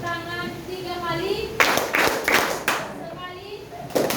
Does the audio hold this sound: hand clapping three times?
yes